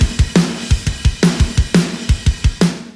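A snare drum under fast-attack 3:1 compression with a 50 Hz high-pass. Sharp, punchy hits cut off short in a quick repeating groove, and softer low thumps fall between the hits. The snare is close and loud, with no one talking.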